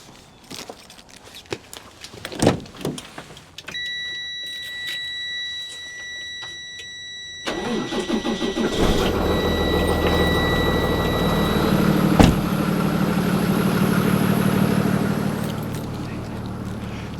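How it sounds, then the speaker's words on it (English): A Freightliner truck engine turns over and settles into a steady diesel idle on a cold morning, loud and close after a stretch of clatter and a high electronic tone, with a voice talking over it. "I have this Freightliner to get warmed up and squared away for the guys,"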